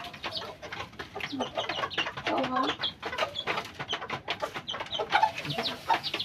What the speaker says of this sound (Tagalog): sino gustong bumili ng mga ganito kalaking manok?